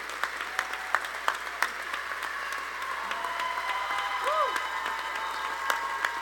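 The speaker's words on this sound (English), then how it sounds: "Can we get a round of applause for everyone who has made this possible?" Scattered, fairly faint clapping from a crowd in a large room, with a low hum underneath.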